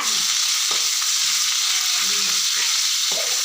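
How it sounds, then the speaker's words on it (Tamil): Onions sautéing in a pan for bottle gourd curry, with a steady bright sizzle and several scraping stirs of a spoon against the pan. Faint voices sit low underneath. "நல்லா வெங்காயம் வதங்குற மாதிரி வதக்கு"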